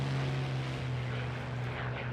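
A low-flying propeller plane in a World War II game drones steadily and loudly, its engine holding one even pitch throughout the short stretch, with no speech over it.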